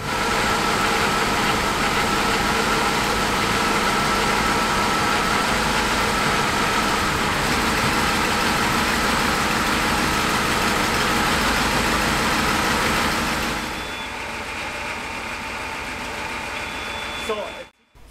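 The engine of a Mercedes R107 runs steadily at idle, a dense, loud drone that fills most of the stretch before easing to a softer hum near the end and cutting off.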